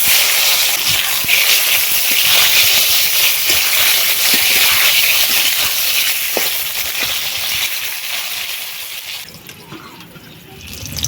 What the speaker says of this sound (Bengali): এই যে প্রথমে বেগুনগুলো ভাজবো